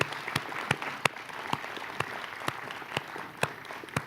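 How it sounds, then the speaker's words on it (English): Applause from a live event crowd in Australia, faint and distant, a soft steady patter with a few sharper individual claps standing out at irregular intervals. "A huge round of applause, actually."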